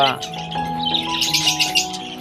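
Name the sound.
parrot with chicks calling at nest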